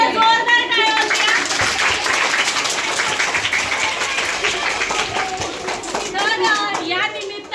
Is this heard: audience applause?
yes